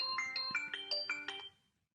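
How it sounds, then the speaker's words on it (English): A mobile phone rings after a remote play-sound command is triggered, giving a clear, loud melodic ringtone with repeated bright tonal notes that stops shortly before the end. "if you want to ring your mobile phone, you can click here, play sound."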